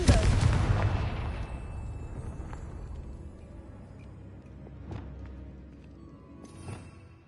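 A Confringo spell explosion in a video game goes off with a loud blast at the start, its rumble slowly decaying. Two fainter impacts follow later in the stretch.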